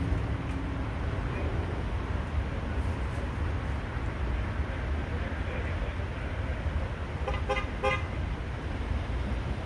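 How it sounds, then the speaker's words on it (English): A distant car horn toots briefly twice, faint over a steady roadside rumble of traffic noise. "Somebody was honking."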